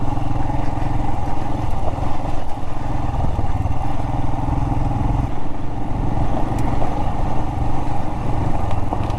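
Royal Enfield Himalayan motorcycle riding off-road in the desert, its single engine droning loud and steady close by, with rattling and wind rush over the continuous ride.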